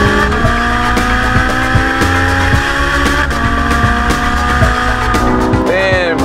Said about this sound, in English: squeeze that throttle back on all the way out to it